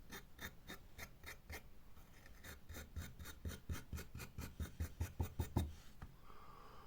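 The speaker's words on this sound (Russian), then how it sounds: "вот таким вот образом чистить насечку" Clogged teeth of a metal file are cleaned by hand, a rhythmic series of short rasping strokes that start sparse and quicken into closer, louder scrapes before stopping.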